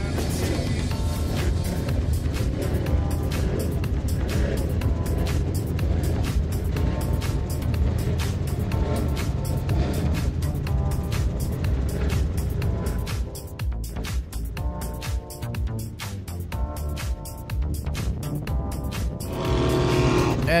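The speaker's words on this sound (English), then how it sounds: "we're now going to start to be able to hear the power of those engines." Donzi 43 race boat with 1,200-horsepower Teague engines running at speed on open water, a loud continuous deep engine roar with dense broadband noise that dips briefly toward the end before swelling again.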